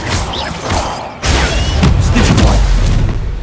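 Hogwarts Legacy combat with the Confringo fire-blast spell: a deep, rumbling blast erupts partway through, and heavy booming and crackling follow it and continue beneath the game's score.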